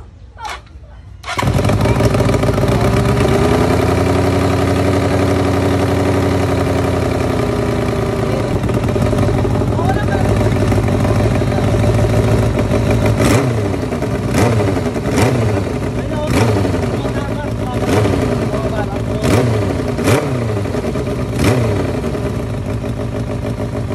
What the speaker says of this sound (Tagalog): napaandar ko na bigla yung motor